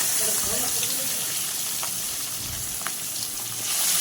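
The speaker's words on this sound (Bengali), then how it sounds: "একে একে বাটা মাছগুলো দিয়ে ভেজে নেব" Bata fish frying in a hot wok as a Bengali mustard fish dish is prepared, giving a steady, even crackling sizzle that holds at moderate loudness for the whole stretch with no talking.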